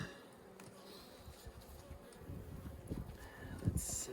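Honey bees at an opened hive, feeding on queen candy, give a faint, low, steady buzzing with a few soft handling knocks near the end.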